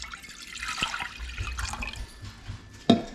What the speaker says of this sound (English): We're gonna mix in 2 cups of water